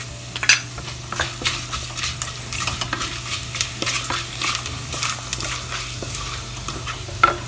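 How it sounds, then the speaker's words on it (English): Fenugreek, cumin and mustard seeds sputter in hot oil with a close, steady crackle and frequent sharp pops. A soft low hum runs underneath the whole time. "We'll wait for all these spices to sputter."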